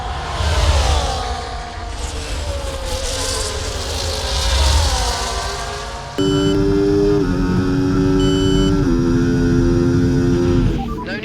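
Formula 1 cars race in the F1 24 video game at Montreal's Circuit Gilles Villeneuve, with high-pitched engine whines rising and falling as cars pass, then a closer car's steady engine tone shifting through gears.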